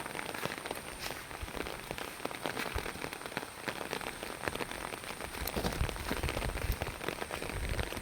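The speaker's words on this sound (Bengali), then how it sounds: "প্রচণ্ড পরিমাণে বৃষ্টি হচ্ছে গত কয়েকদিন থেকে" Heavy rain falls steadily during a days-long downpour, a dense even patter and drumming of drops on surfaces that stays constant and moderately loud throughout, with no voices.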